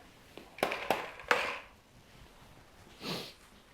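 Several quick, sharp sniffs in succession from an 8-week-old puppy, followed by a softer breathy snuffle, close up with quiet pauses in between.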